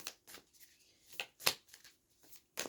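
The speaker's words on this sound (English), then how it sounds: "Oh, it's really difficult to shuffle these cards." A deck of tarot cards being shuffled in short, soft riffling bursts with small pauses between them, close and quiet.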